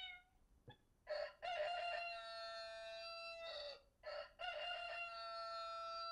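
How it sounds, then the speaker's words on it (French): A single recorded rooster crows loudly and clearly from a children's audio book reader, a long drawn-out call in several bursts after a brief click, with no one speaking. "le coq"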